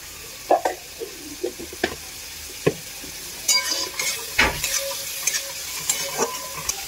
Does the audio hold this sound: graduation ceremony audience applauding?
no